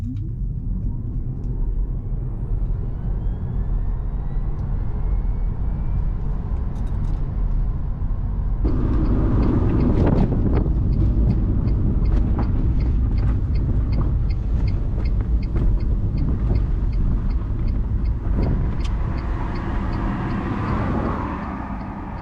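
An original Tesla Roadster electric sports car accelerates at full throttle on an empty road, with a steady loud rumble and a rising motor whine that builds and then gives way to rougher road and wind noise.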